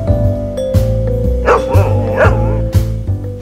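A dog barks a few times in short bursts over a steady tonal music backdrop, fairly close and clear.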